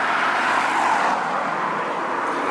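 A Lexus car passes by on the road, a steady broadband whoosh of engine and tyres that fades gently, with no talk.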